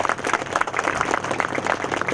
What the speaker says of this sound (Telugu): అబ్బాయికి ఒకసారి క్లాప్స్ కొట్టాడు.